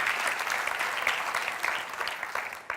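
A congregation in a church gathering applauds to thank God, with brisk, continuous clapping at moderate loudness and no speech.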